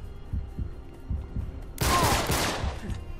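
A burst of gunfire from a video game shootout in Uncharted 3 Remastered erupts loudly partway through, a dense rattling volley that follows a series of softer rhythmic thumps.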